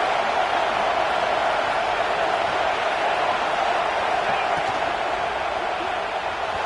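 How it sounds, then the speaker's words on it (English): Steady crowd roar from a football stadium early in a game, a dense continuous wash of many voices holding at an even level throughout with no distinct claps or breaks. "Listen to the crowd energy here in the early going."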